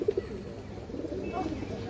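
A pigeon at a seller's stock of high-flyer and colored pigeons gives two short, soft coos right at the start, then only a quiet room murmur remains.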